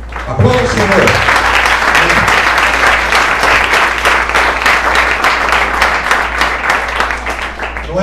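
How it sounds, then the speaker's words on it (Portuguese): A church congregation at a Portuguese-language worship service applauds loudly and continuously, a dense sustained wall of clapping with a voice briefly audible at the start. "Aplauda o Senhor."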